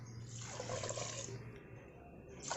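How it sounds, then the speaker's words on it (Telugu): Water pours steadily from a glass into soaked rice for chicken biryani, a close, fairly loud rush for about a second and a half before it thins to a lighter trickle. "ఈ 2 గ్లాసుల బియ్యానికి నేను 3 గ్లాసులు వాటర్ వేస్తున్నాను."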